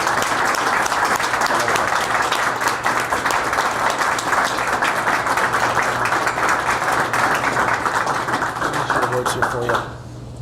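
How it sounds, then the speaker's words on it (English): Loud, sustained applause from an audience at an award ceremony honoring citizen heroes, clapping steadily for about ten seconds before dropping off sharply at the end. "let's give them a round of applause"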